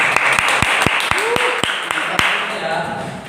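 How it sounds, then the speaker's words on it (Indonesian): Rhythmic clapping in a school classroom, sharp regular claps at a quick even beat from a small group, with voices talking and calling out over it. "Tepuk tangan, Bu."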